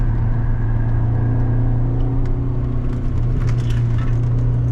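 A BMW E30 M3 engine accelerating on the Istanbul Park circuit, a loud, close, continuous mid-pitched drone heard from inside the car, holding steady without talk.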